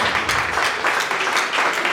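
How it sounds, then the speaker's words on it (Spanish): Church congregation at an Iglesia de Dios service giving a short burst of sustained applause, dense and loud, filling the room with little else audible. "Den un aplauso al Señor."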